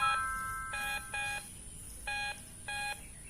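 A metal detector gives a run of five short electronic beeps in an uneven rhythm over faint outdoor background noise, fairly quiet and with no talking.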